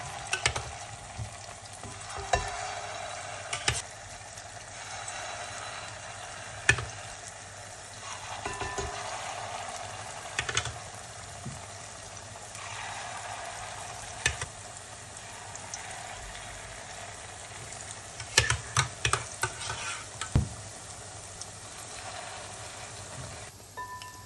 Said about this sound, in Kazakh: Дайын болған массаны қызып тұрған майға салып, екі жағынан қызартып қуырып аламыз.